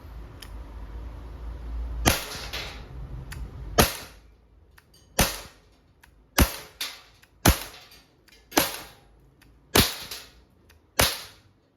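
Umarex Glock 17 Gen 3 dual-ammo airgun shooting steel balls, about ten sharp, snappy cracks at irregular intervals, each a loud near crack with a quick decay and no talking.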